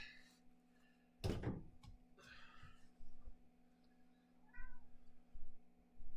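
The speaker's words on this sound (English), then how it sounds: "I need to see to this cat." A house cat meows several times indoors, short and fairly close, over a faint background hum. A door thunk is also heard. There is no talk.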